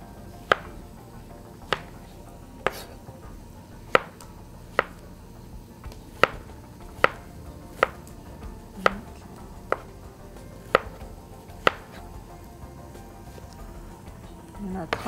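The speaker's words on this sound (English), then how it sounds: "we're just gonna slice them up" A knife slices fresh peaches on a cutting board, producing a steady series of sharp, evenly spaced chopping taps, close and moderately loud, over quiet kitchen background.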